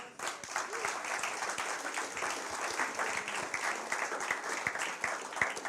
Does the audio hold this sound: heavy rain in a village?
no